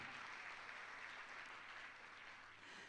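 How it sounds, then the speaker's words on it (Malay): Continuous crowd clapping at an awards recognition event for platinum-level achievers, a steady even wash of applause heard at low volume throughout. "Satu tepukan kepada Salbiah dan juga Samsudin."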